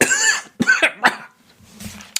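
A man coughs in a few harsh bursts at close range, then the room falls quiet with faint rustling.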